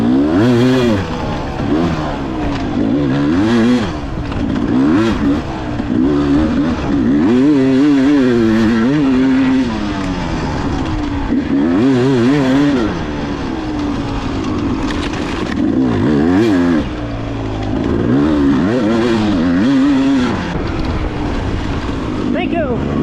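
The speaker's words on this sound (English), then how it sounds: "This is how you ride a two-stroke right here." A two-stroke dirt bike ridden hard in a sprint enduro revs up and down again and again, with rapid throttle blips and sustained high-pitched engine whine. It sounds loud and close throughout, like an onboard recording.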